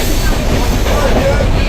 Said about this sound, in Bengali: ট্রেন এখন ছেড়ে দিয়েছে